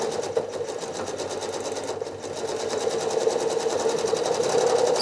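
A sewing machine doing free-motion quilting in small swirling circles, its rapid needle chatter running continuously and close, growing slightly louder toward the end with no talking.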